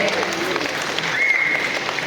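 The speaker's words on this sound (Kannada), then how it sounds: "ಮತ್ತೆ ದೊಡ್ಡ ಚಪ್ಪಾಳೆ ಬರಲಿ ಅವ್ರಿಗೆ" Applause from a film audience at a celebration for a Kannada movie's cast, a steady wash of clapping without pauses throughout, moderately loud, with the murmur of a crowd underneath.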